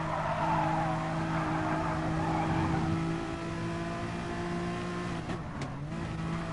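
Porsche race car in a Group 3 and Group 4 endurance racing game, engine droning steadily at high revs with a sustained whine, then a short skid or tire squeal near the end.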